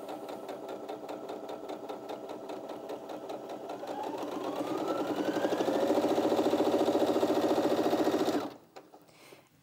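A Brother Innov-is 15 sewing machine stitching steadily, its rapid mechanical chatter climbing from a moderate pace to a louder full-speed whir before stopping abruptly.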